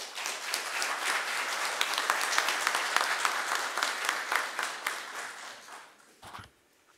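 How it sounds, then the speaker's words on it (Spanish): Loud audience applause fills a hall at an international mining engineers' conference in Peru, sustained dense clapping for about six seconds before fading away. "Lo recibimos con fuertes palmas."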